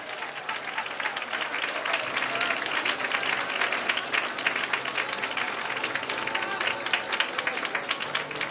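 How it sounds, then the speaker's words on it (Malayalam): A church congregation claps hands together during a sermon, producing dense, sustained applause that stays steady and moderately loud throughout, with crowd noise mixed in. "കൈയടിക്കുന്ന നേരെ കരങ്ങളടിച്ച്"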